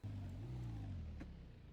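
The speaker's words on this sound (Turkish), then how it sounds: "Hala tekerler dönmeye çalışıyor." Crashed BMW in BeamNG.drive with its wheels still trying to spin, a low, faint motor hum that slides gently downward and fades, with no voices.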